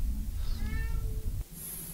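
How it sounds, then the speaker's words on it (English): A domestic cat meows in the background during a Mass Effect gaming session, a single drawn-out call of moderate loudness over steady low room noise, with no speech. "I apologize if you can hear my cat in the background."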